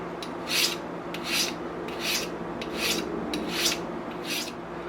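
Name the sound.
filing passes sharpening a broadhead edge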